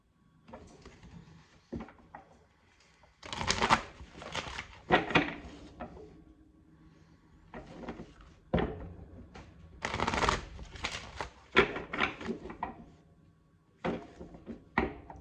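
Crystal Ally Oracle cards are shuffled up close in irregular riffling bursts with quiet gaps between them and no voice.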